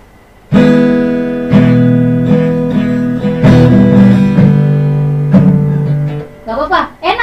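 A beginner strums an acoustic guitar in a series of loud, ringing chord strums of uneven timing, each chord sustaining before the next, ending with brief voices and laughter near the close.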